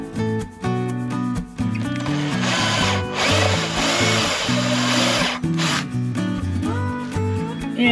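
A drill fitted with a step drill bit bores into soft material, its motor whirring and grinding in steady bursts with brief stops and restarts, close and fairly loud.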